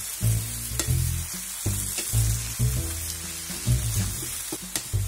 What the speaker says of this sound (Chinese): 一起翻炒数下就可以出锅了